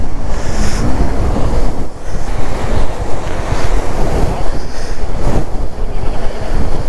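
Rushing mountain stream water flows steadily and loudly across a road in Spiti Valley, a continuous broadband roar mixed with gusty wind buffeting the microphone.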